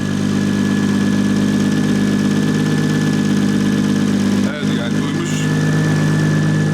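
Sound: Toyota 2JZ engine idling in a BMW E46 wagon

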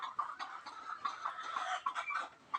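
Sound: hens clucking in a poultry shed

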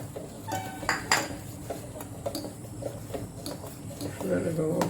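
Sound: spoon clinking in a pot while adding country sugar to porridge

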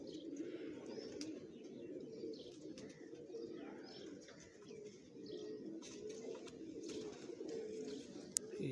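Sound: pigeon cooing

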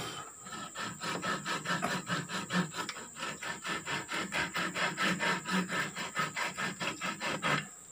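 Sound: sawing wood with a small saw

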